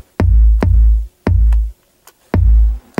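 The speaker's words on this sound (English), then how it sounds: "So we get a nice solid kick sound." A solid, deep kick drum programmed in Studio One thumps in paired hits, each with a sharp attack and long booming low tail. The pairs repeat at a steady pace, loud and alone.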